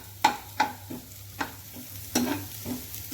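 Onions fry in a pan as a spatula stirs them, with several sharp scraping strokes spaced irregularly over a soft, steady sizzle.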